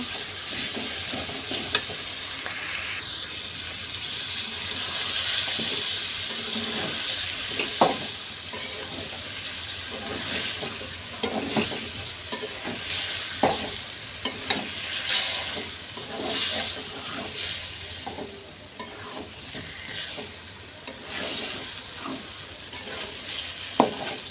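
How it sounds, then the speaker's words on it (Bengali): Chicken meat sizzling in cooked spice masala with a steady hiss of frying, punctuated by repeated scrapes and taps of a spoon stirring the pan. "মশলা ভালোভাবে কষানো হয়ে গেছে, এখন আমি গোশ দিয়ে দেব"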